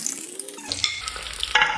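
Hot oil frying with a stirred sizzle, a bright crackling hiss that swells toward the end, close by, with no talk.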